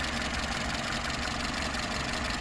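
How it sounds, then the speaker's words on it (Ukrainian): A 2007 Mercedes B 170 with a 1.7-litre petrol engine idles, a steady continuous hum with an even low rumble and a faint ticking texture, with no voices. "Ось робота двигуна."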